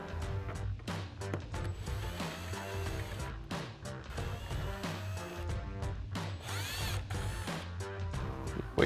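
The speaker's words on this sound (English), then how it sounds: "So we'll grab our T20 Torx bit on our impact and run these out." Cordless impact driver fitted with a T20 Torx bit backs out four screws holding a Ford Mustang headlight assembly (2015–2022), sounding as repeated short rattling bursts of driving close by, with no talk.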